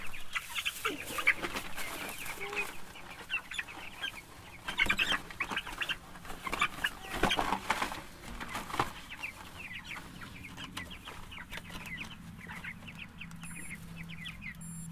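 Meat chickens cluck and chirp continuously in a busy flock, a dense, overlapping chatter of close and farther birds with no one talking.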